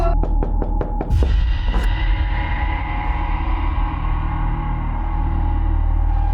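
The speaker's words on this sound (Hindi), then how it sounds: "आलिया, दरवाजा खोलो।" A quick series of sharp knocks on a door, about five raps in a fast rhythm, followed by a heavier thud, then a droning background tone.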